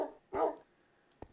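A tamed water wolf in modded Minecraft (All The Mods 3) gives two short barks, a clear yelp followed by a fainter quick bark about a second later, close and isolated.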